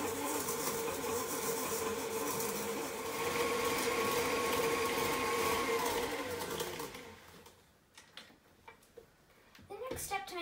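Electric mixer beating softened butter and sugar on high speed for a cake, a steady whirring drone for about seven seconds before it cuts off, followed by a few clicks and a voice speaking.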